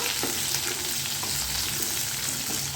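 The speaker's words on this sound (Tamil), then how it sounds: "இந்த வெங்காயம் வந்து ஒரு லேசான பொன்னிறம் வரும் பாருங்கள் அந்தளவுக்கு வதக்கி எடுத்துக்கலாம்" Onions sautéing in a pan with mustard seeds for tomato chutney, a brief, steady hiss of frying with faint crackles and no voices.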